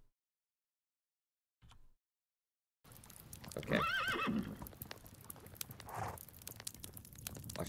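Horse neighing with hoof clip-clop in the medieval life-sim game Medieval Dynasty, starting after a silent gap and a brief thud, with a mid-level whinny over steady game ambience and a short spoken word.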